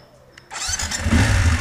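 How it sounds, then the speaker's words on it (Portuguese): A motorcycle engine starts up close by: a brief whir of the starter, then the motor catches and settles into a loud, throbbing idle. "eu adoro ligar essa moto"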